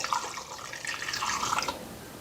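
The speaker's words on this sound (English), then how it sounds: "I'm just going to fill it up to a certain point in the jar." Liquid pours steadily into a jar while an herbal tincture is being made, a continuous close splashing trickle lasting under two seconds before stopping, with no voices.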